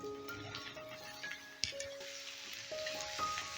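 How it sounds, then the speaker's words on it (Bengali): Eggplant pieces fry in oil with garlic and onion, giving a steady soft sizzle with faint stirring clinks and scattered crackles, while background music plays over it. "রসুন পেঁয়াজটা ভেজে নিয়েই দিয়ে দিচ্ছি কেটে রাখা বেগুনগুলো"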